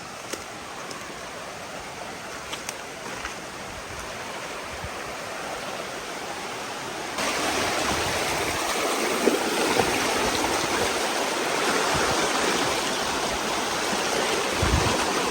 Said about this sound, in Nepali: ल पानी नै कडा भयो रहेछ यहाँ त